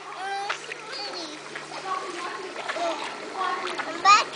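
A small child splashes and kicks while swimming in water, producing steady close splashing and sloshing, with an adult and someone talking over it throughout.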